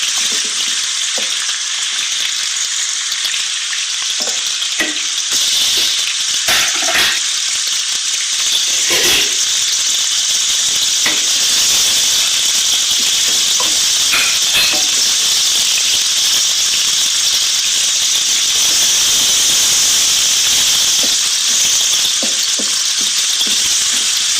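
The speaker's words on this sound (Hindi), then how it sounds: "सबसे पहले तेल में प्याज शामिल करते हैं। इनको हल्का सा फ्राई कर लें।" Onions fry steadily in hot oil at the start of a hotel-style turnip curry, giving a loud, continuous sizzle with occasional stirring rattles and no talking.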